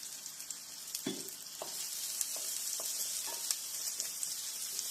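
Fenugreek seeds stirred into a sardine curry base with ginger and green chilli in a pan, a quiet continuous sizzle with several soft spoon scrapes and taps, close by with no voices.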